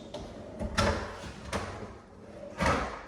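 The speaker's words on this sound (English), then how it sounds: "And then also the pull-out drawers." Pull-out drawers in a new single-family home being slid open and shut, several soft thuds and sliding rumbles in a quiet room, no talking.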